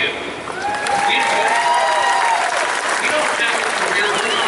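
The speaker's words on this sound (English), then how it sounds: "I think you give yourself a round of applause" A large ballpark crowd at the San Francisco Giants Wall of Fame ceremony breaks into loud, sustained applause and scattered cheers that swell after a brief quieter start, with voices calling out within the roar.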